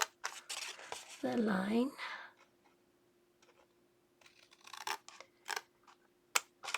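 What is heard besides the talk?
scissors cutting paper for an explosion box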